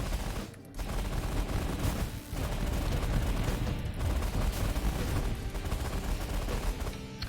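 Rapid, sustained minigun fire from a ship in the space strategy game The Last Federation, a dense continuous roar of shots with a few brief gaps, loud and steady throughout.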